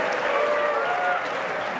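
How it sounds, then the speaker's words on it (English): Applause for a retiring Sergeant at Arms fills a legislative chamber during a governor's budget address, a steady, somewhat distant wash of clapping that slightly fades near the end. "They are giving applause to one of the retiring Sergeant of Arms."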